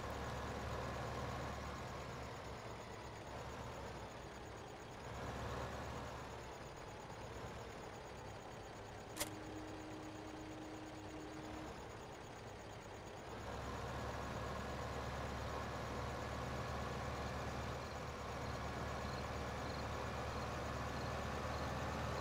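A tractor engine in Farming Simulator 15, a steady low rumble at idle that drops slightly midway, with a brief thin electronic tone, then returns to a fuller drone.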